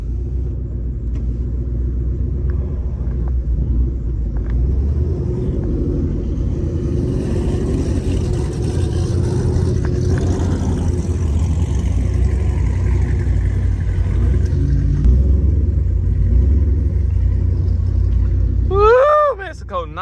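A Ford Mustang 5.0 rumbles steadily with its engine running up close as it readies to pull off for a street race. Voices talk over the drone throughout.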